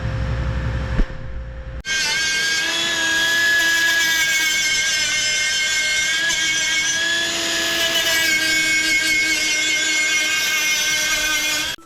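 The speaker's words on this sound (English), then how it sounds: "So we'll grind all these back to flat now" An angle grinder grinding welds on an R32 GTR sub-frame back to flat, starting with a sharp spin-up and then holding a loud, steady high-pitched whine close by for about ten seconds.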